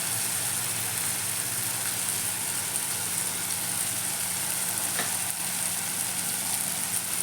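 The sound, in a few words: turmeric powder added to sizzling drumstick sabzi in pan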